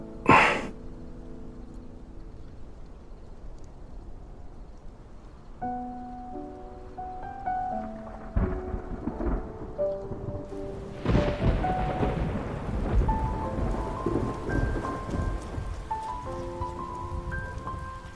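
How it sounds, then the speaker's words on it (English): Rain and a thunderstorm in the video game Love and DeepSpace build from a soft hiss to a heavier wash with low rumbles, under sustained musical tones and a brief gasp at the start. "It's raining! Let's head inside."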